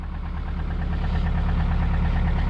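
A car engine runs loud and close, a low rumbling idle that swells slightly as it revs, steady and alone with no talk.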